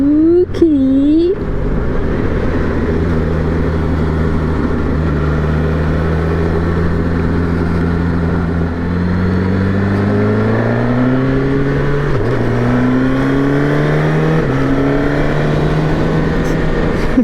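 A 2023 Suzuki Katana motorcycle idles with a loud, steady rumble, then its engine rises and falls through several revs and shifts in pitch, heard close against a constant wind roar.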